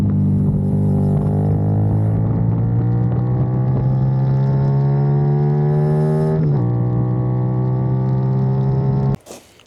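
A modified Benelli 752S motorcycle engine revs up steadily, its loud, buzzy tone climbing in pitch over several seconds. It dips briefly, then holds high before cutting off abruptly near the end.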